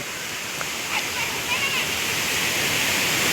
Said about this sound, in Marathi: तो धबधबा डायरेक्ट या साईडला निघतोय इकडं पहा हा पहा या साईडला निघतोय